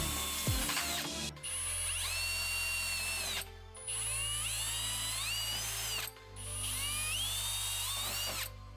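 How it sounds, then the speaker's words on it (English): Power drill boring mounting holes for glass brackets on a homemade sandblasting cabinet, three sustained whining bursts with rising pitch separated by short pauses, loud and close, no talking. "Drill the holes."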